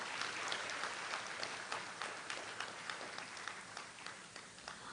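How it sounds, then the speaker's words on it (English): A ceremony audience gives a steady round of applause at the investiture and installation of the Chief Girl Scout of the Philippines. The dense clapping holds for the full five seconds at a moderate, somewhat distant level. "Let us give everybody once again a round of applause."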